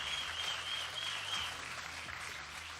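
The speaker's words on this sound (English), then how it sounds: "Give me another round of applause for these two." Audience applause fills a Marvel Contest of Champions gaming event hall, steady and dense clapping sustained throughout with a faint high tone running beneath.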